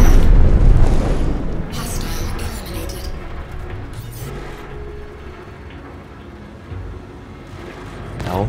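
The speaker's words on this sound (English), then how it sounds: "One size 4 weapon in the nose and two size 3 in the wings sure make short work of small ships like this Avenger here." Ship weapons firing and a small Avenger ship exploding in the space game Star Citizen, from an Origin 300 series ship with one size 4 nose weapon and two size 3 wing weapons: a loud booming blast fading into rumbling debris, with a voice talking over it.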